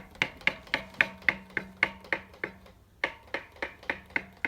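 Bicycle brakes being applied repeatedly, giving a series of short, crisp squeaks and rubs in a steady rhythm, about a dozen close, moderately loud strokes with a brief pause near the middle.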